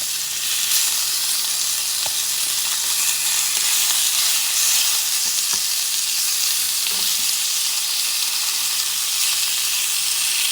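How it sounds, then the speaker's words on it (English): Lean bison meat chunks fry in a pan with a constant, even sizzle and hiss, close and steady throughout, with only a few faint knocks underneath. "start cooking your meat. Remember, this is bison"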